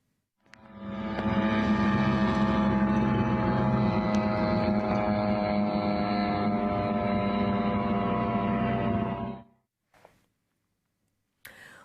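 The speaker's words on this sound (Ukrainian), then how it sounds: "А в мережі шириться відео зі звуком дрона в небі." A military drone buzzes in the sky with a loud, steady, droning hum that holds for about eight seconds, then cuts off abruptly, followed by near silence.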